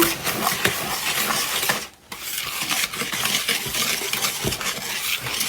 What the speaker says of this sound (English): So, we're going to whisk that together.